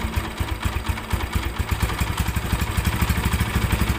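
A Honda Tiger Evo motorcycle engine with a rough clutch is revved up from idle. Close, loud, rhythmic pulsing chugs grow slightly faster and stronger over four seconds, with clattery mechanical noise and no talking.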